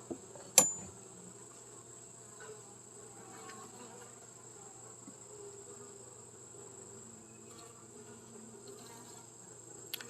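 Honeybees hum steadily and quietly around an open hive during an inspection on a farm, a low continuous drone with a sharp knock early on and no talking.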